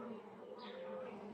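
Honeybees hum at an open hive during a frame inspection, a close, continuous, fairly quiet drone without pauses.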